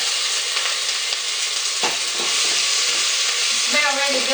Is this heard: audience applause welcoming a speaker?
no